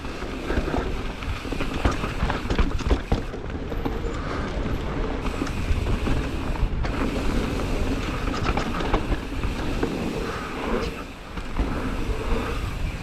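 Wind roar and rattling from an e-bike riding downhill at Rogate bike park: a continuous loud, dense rush with clattering throughout, steady and close, with no talk.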